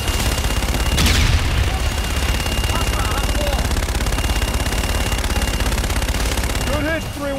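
Rapid continuous gunfire and a burst of explosion in Call of Duty: Infinite Warfare, dense crackling automatic fire throughout with a loud blast early on, voices talking briefly near the end.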